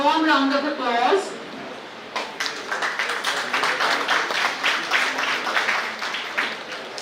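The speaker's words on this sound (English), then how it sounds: "A warm round of applause." Audience at a national convention of mechanical engineers applauding an award presentation; a voice speaks at first, then moderate, steady clapping continues for several seconds.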